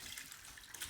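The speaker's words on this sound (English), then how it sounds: "So I'm pouring it through a mesh strainer." Whey from mozzarella curds pours through a mesh strainer, a steady close splashing stream of liquid with no talk.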